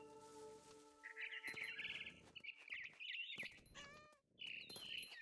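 A frightened bird in the video game What Remains of Edith Finch chirps and trills in quick, bright bursts for several seconds over a soft ambient bed. The calls come close and fairly loud, with brief gaps between them.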